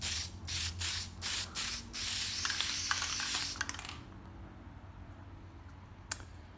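Plasti Dip rubber coating hisses from an aerosol can onto a Camaro spoiler in four short bursts and then one longer steady spray, close and loud, before the can stops and only faint room noise remains.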